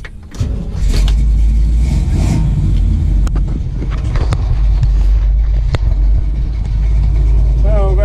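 A 1968 Chevrolet Nova with an Edelbrock fuel fitting and custom gas line on a test drive, its engine rumbling loud and close with a deep steady drone, brief revs and a few knocks, a voice briefly heard.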